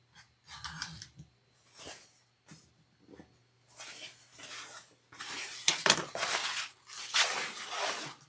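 Scissors cut fabric for a sewing pocket in a series of quiet, crisp snips and rustling bursts, spaced irregularly and growing denser toward the end.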